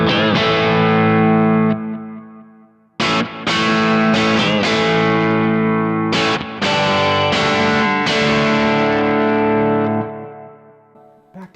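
Heavily distorted electric guitar played through a Kemper amp profile with the high shift adjusted, loud sustained chords with a few sharp restrikes and ringing decays, alone with no talk.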